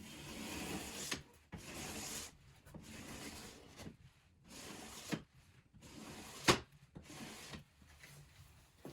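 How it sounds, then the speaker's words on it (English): Plastic scraper dragged along a cross-country ski to strip glide wax, giving repeated rasping strokes about a second long, separated by short pauses and one sharp click, close and fairly quiet. "scraping does a pretty good job of removing most of the wax"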